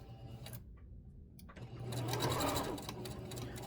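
A sewing machine joins quilt blocks, running in a short burst, pausing briefly, then whirring steadily again with a fast, even needle patter close by.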